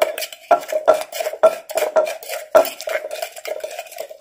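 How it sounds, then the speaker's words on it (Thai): Sugar pounded in a mortar for som tam, a series of close, regular wooden thuds about twice a second with grinding scrapes between strikes. "บดโขลกให้น้ำตาลละลายก่อนนะคะ"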